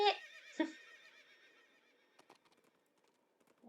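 A horse whinnies twice in Princess Peach Showtime, each neigh a bright wavering call, followed by faint hoof clip-clops and small game noises fading toward quiet.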